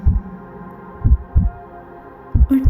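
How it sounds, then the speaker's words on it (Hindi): Deep, thumping heartbeat effect for a horror audio drama, loud and close, with lub-dub pulses in uneven clusters over a dark low hum. "हर कदम के साथ मेरे दिल की धड़कन भी तेज़ होती जा रही थी"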